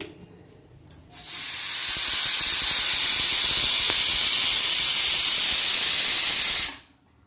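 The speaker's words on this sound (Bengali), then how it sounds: "তো চলো মাংসটা গ্যাসে বসিয়ে সিটি দিয়ে নিই।" A pressure cooker on a gas stove lets out a loud, sustained whistle of hissing steam while mutton cooks, rising sharply, holding steady for several seconds and then cutting off.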